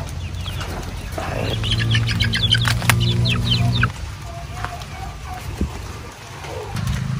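Chickens on a backyard poultry farm in the rain, with repeated clucking and squawks clustered in the first half, a flutter of wings, then quieter scattered calls over a steady background hiss.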